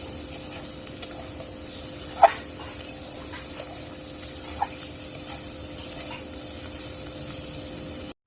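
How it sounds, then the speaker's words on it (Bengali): Bitter gourd pieces fry in oil in a pan with a steady, soft sizzle, while a spatula scrapes and taps the pan now and then. The sound is moderately close, and nobody talks. "সুন্দর করে ভাজা ভাজা করছি।"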